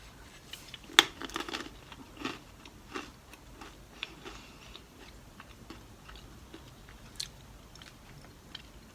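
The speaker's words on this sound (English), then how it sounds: "let me go on ahead and taste the pretzel ball here and the trail mix" Someone bites and chews crunchy pretzel balls and trail mix from an MRE, close and quiet, with scattered crisp crunches and clicks at an irregular pace, no talking.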